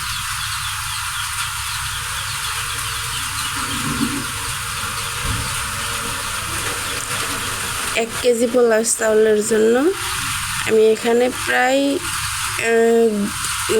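Polao rice for beef tehari fries in a pot as hot water goes in, giving a steady loud hiss and sizzle throughout. Partway through, a person starts talking over the continuing sizzle.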